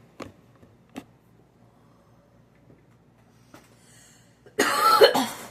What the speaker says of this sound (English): I always cough after the last time of the poll